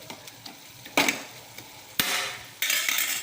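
Stirring a coriander and mint mixture in a pan for thuvayal, with several scraping, rustling strokes that rise in bursts over a soft background, close by and without talk.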